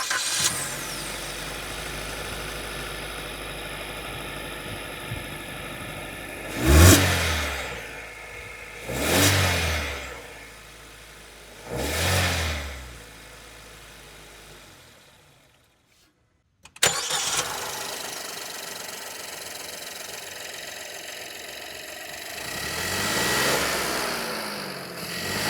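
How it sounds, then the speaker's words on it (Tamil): A Maruti Brezza car engine revs hard three times in short bursts, drops to a steady idle, cuts out briefly, then restarts and idles with a slight throttle blip. "இந்த வீக்கோடைய என்னோடைய இன்ஜின் நோட்டை கேளுங்க"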